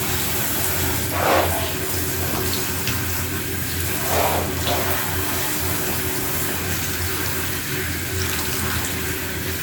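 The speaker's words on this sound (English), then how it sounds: "It's good for your hair to run it cold water over it." Steady cold tap water running over dreadlocks, a continuous broadband splash with a few brief surges, close by and without talk.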